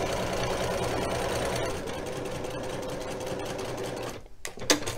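A sewing machine stitching quilt fabric runs in a steady, fast mechanical chatter close by, then stops abruptly near the end, followed by a couple of small clunks.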